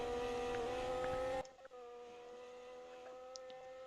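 Formula 1 race cars in an F1 video game league race, a steady high engine whine with layered harmonic tones that drops abruptly to a quieter, thinner drone partway through, with a faint brief squeal near the end.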